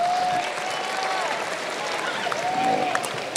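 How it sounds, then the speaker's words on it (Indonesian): Audience applause for a student at a university orientation lecture, steady broadband clapping sustained throughout with a faint crowd murmur beneath. "Tepuk tangan sekali lagi buat Elisa."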